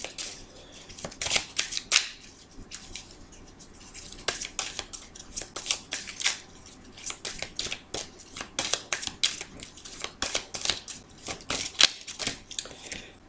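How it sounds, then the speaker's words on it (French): Tarot cards shuffled and dealt out during a French card reading, a steady run of crisp snapping riffles and soft slaps close by, repeated in quick bursts with no voice over them. "on va remettre quelques cartes dessus"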